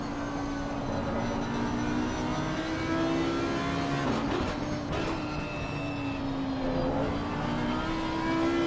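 BMW and Audi GT racing cars from Assetto Corsa Competizione scream around Brands Hatch, steady high engine drones with shifting pitch, a brief burst of revving and gear changes midway, no voices.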